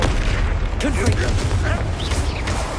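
A booming blast of the Confringo explosive spell from the Hogwarts Legacy video game, loud over steady battle noise, with voices speaking over it.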